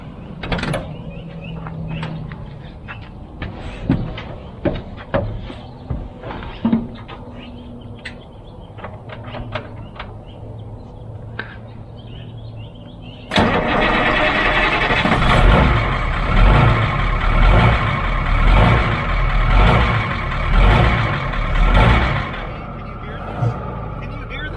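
A 1977 International Harvester Loadstar truck with a Caterpillar diesel engine is cranked and starts partway through, switching to a loud, rough, throbbing idle with a pulsing rhythm. Mechanical clicks and knocks come before it, and voices are heard early on.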